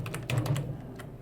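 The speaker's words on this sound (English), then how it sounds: "I'm going to type it as it is" Short burst of typing on a computer keyboard, several quick close key clicks in an uneven run as a filename is entered, with no voices.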